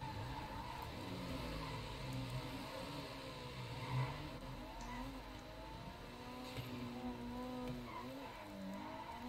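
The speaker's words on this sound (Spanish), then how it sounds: "tiene una reaceleración este auto." In a driving video game, a car engine revs and accelerates with wavering pitch under a continuous low roar of road noise, steady and moderately loud, with no voices over it.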